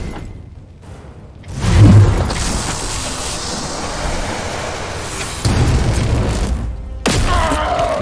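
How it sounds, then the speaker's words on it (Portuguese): A loud explosion in Warhammer 40k: Chaos Gate - Daemonhunters, a booming blast that swells into sustained rumbling roar, with a second burst near the end; game sounds only, no voices. "Ah, explodiu o maluco."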